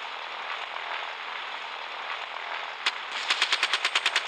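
Rapid bursts of machine-gun fire from a gunship in the naval combat game Gunship Battle, a single loud shot followed by a fast, evenly spaced string of rounds over a steady roar of engine and wind.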